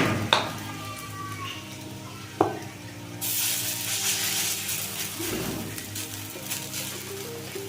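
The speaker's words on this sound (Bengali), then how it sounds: "পকোড়াটা জাস্ট ভেজে নেব।" Pakora fritters fry in hot white oil in a wok, starting with a couple of sharp metal clinks before a bright, loud sizzle rises as the batter goes into the oil, with a faint tonal hum beneath.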